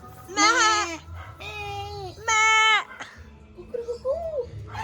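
Several loud, quavering goat bleats ring out close by in quick succession, then fainter calls and a soft voice follow.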